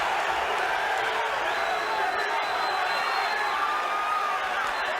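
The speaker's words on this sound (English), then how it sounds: "The crowd is chanting USA," A large arena crowd at a UFC fight keeps up a sustained, rhythmic chant, dense and steady, with a commentator's voice underneath.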